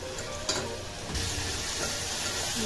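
Tomato, ginger-garlic paste and onion frying in oil for misal masala, stirred in the pan: a loud, dense, continuous sizzle close by, with a brief clatter of the spoon early on.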